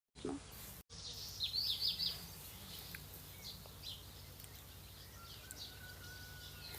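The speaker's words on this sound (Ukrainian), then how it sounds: "Як гарно співають пташки" Birds singing outdoors in hot weather, a few faint, high chirping phrases scattered over quiet background hiss, with a louder burst early on and sparse calls afterward.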